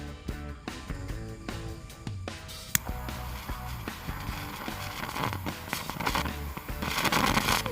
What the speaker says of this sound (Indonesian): Selanjutnya kita nyalain mercon lilin guys